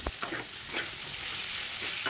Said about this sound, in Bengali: এবার সবগুলো একসাথে ভালো করে কষাবো।